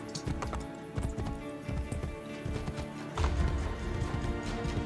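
Horse hooves clip-clop at a steady running rhythm in the Assassin's Creed Brotherhood video game, a close and constant patter that grows a little louder toward the end.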